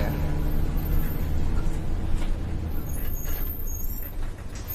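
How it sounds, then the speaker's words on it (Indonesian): A bus slowing to a stop with air brakes, heard from inside: a low, rumbling engine and road noise with a broad hiss of the brakes, steady and close throughout. "Tak lama bis pun berhenti"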